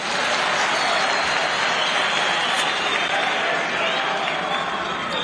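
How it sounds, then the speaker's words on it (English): A hall full of councillors and local government officials applauds in a steady, dense wash of clapping that carries on loud and even throughout, with no break. "Can we clap for your friend there?"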